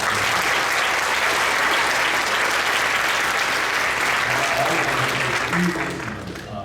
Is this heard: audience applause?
yes